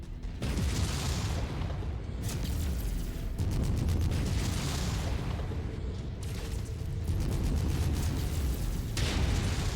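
An enemy crab mech in MechWarrior 5 is destroyed amid heavy combat, with repeated booming explosions and rumbling blasts layered over a dense, loud mechanical din, with no talking.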